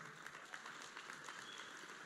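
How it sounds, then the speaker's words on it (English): Brief audience applause at a talk on women in leadership, a continuous patter of many hands clapping at moderate, somewhat distant volume with no voices over it. "you can applaud her."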